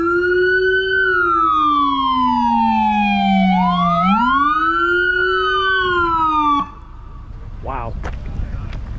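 An FBI vehicle's siren wails loudly past at close range, the tone sliding down and then sweeping back up before the sound cuts off abruptly, followed by quieter street noise.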